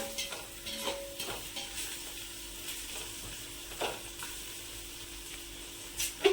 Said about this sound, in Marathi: आता ते कांदा परतू राहिला अजून लाल होऊन द्यावा लागतो